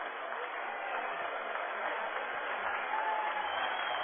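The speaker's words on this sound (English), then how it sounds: "Give that Fan a round of applause." A baseball crowd at a Texas League playoff game between the Tulsa Drillers and Arkansas Travelers applauds a fan's catch of a foul ball, with steady, distant, thin clapping throughout.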